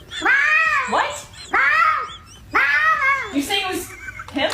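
Cat meowing in a series of loud, drawn-out, wailing calls, three long yowls followed by shorter cries, close and alone with no talk over them.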